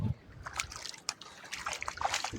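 Water sloshing and trickling as it runs along a small irrigation channel in a village field, faint and close, with soft splashes and a quiet murmur of voices in the background.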